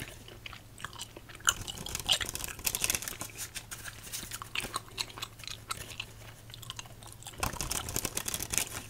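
Sour Patch Kids Apple Harvest gummies are chewed close to the mic, soft sticky squelching and irregular bites alongside light crinkling, quiet and intimate, with no talking.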